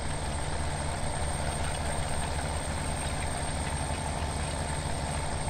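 A tractor engine idles in the Farming Simulator 17 video game, a steady low mechanical rumble that runs evenly and quietly for several seconds with no talk over it.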